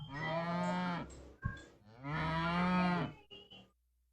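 A cow moos twice, long and loud, with a brief thump between the calls and a short fainter sound trailing after.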